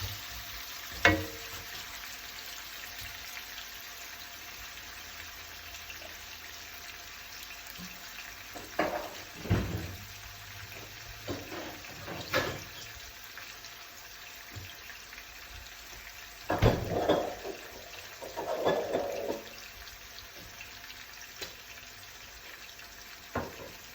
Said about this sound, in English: Make sure that onion browns for about a minute or two